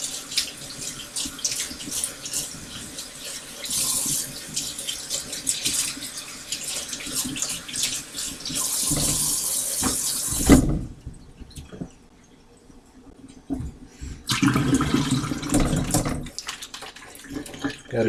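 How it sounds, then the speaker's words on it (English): A kitchen tap runs cold water over bell peppers in a sink, a loud steady gush that stops briefly partway through, then starts again. "cold water on our bell peppers here, just to kind of speed the cooling process a little bit here."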